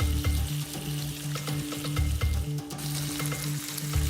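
Hot oil sizzling in a pan during cooking for soto tangkar with fried tofu, a dense steady crackle with a low pulsing hum underneath, close and without voices.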